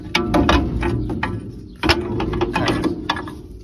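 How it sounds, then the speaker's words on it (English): Wrench ratcheting on a nut to free an old shock absorber during a Gabriel Classics shock install. Quick clicking bursts sound close and loud, with a short pause partway through. "So then you take off that that nut right here and turn it and snaggle it, and it comes right out."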